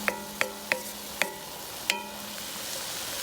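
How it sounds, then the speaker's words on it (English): Bell peppers and onions sauté in a pan for empanada filling, giving a steady, close sizzle broken by five sharp scraping taps of a utensil stirring them. "we want to get this well sauteed with the onions and everything"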